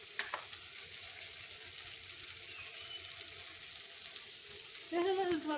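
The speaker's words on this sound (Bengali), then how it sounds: "সেই রান্না হচ্ছে।" Food fries on a stove with a faint, even sizzling hiss, and a voice briefly speaks over it near the end.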